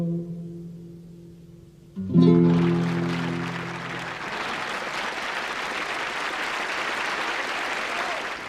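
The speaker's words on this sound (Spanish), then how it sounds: "Frente a los aplausos" Audience applause breaks out suddenly after a Chilean folk song performed with guitar, a dense, steady clapping that swells loudly and holds for several seconds as the final notes fade.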